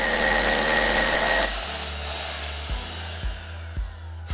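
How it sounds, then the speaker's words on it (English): A power drill bores a hole for a resin anchor, a loud close whirring roar that drops to a lower steady hum, with a few dull knocks as the bit works. "Start by drilling the hole to the correct diameter and depth."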